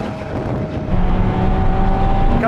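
A Ferrari 488 Pista Piloti, Lamborghini Aventador SV and 800hp Porsche 911 Turbo S drag race as a loud, sustained engine drone that swells and holds steady at speed, heard from inside a car.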